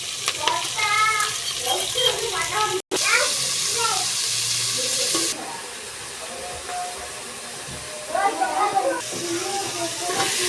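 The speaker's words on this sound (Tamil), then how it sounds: "வெங்காயம், கருவேப்பிலை, மல்லித்தலையை நன்கு வதக்கி கொள்ளவும்." Onions, curry leaves and coriander sauté in hot oil for egg gravy, giving a steady sizzling hiss with stirring scrapes throughout, while a voice speaks over the cooking.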